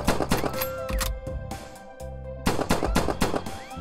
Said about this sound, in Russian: И достаточно быстро причем стреляет. Неплохой пистолет, быстрая перезарядка